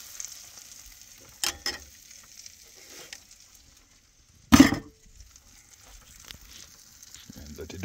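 Duck egg pumpkin spice French toast sizzling in a pan at a camper, a faint steady fry broken by a few sharp clatters, the loudest burst near the middle as the slice is flipped.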